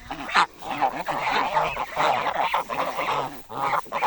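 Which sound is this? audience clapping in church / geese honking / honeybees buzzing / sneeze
geese honking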